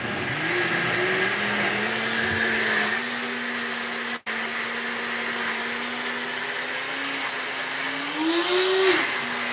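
A blender runs steadily for several seconds while pureeing greens, a loud continuous motor whine with one brief cutout midway and a rising pitch near the end.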